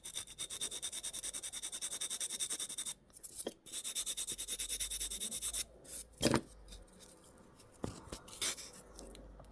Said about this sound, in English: get the old trusty nail buffer out and give them a little buff